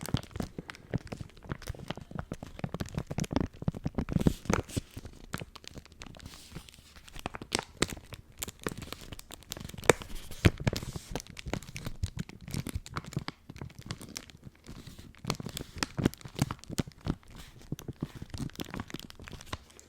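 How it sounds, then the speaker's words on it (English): Eco paper-like toothbrush packaging gets crinkled and crumpled up close, giving a dense, continuous stream of crisp crackles and tearing rustles with no talking. "So yeah, we can do some crinkles with that."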